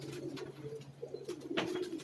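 Indian silver pigeons on a Karachi rooftop giving soft, throaty coos in short repeated phrases, fairly close and quiet, with a brief louder flutter or call near the end.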